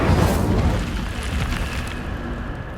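The Incendio fire spell bursts out in Hogwarts Legacy as a loud, roaring whoosh of flame at the start, which then fades into a sustained crackling rumble.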